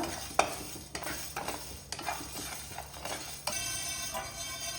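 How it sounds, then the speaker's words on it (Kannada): Fennel and cinnamon dry roasting in a pan over a low flame give a soft sizzle, while a spoon scrapes and knocks against the pan in sharp, uneven strokes, close by. "ಇಷ್ಟನ್ನು ಲೋ ಫ್ಲೇಮಲ್ಲಿ ಡ್ರೈ ರೋಸ್ಟ್ ಮಾಡುವ."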